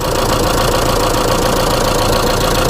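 A Mahindra Bolero Pickup Maxx with a 1.7 engine runs close by, a loud, continuous idling rumble with a steady knocking vibration throughout.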